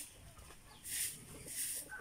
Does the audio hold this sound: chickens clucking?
yes